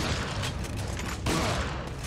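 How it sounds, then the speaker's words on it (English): Flashbang grenades going off in Resident Evil 4 during the Krauser boss fight, a dense noisy burst with a second sharp blast partway through, loud and filling the whole clip. "I really hate those flashbangs."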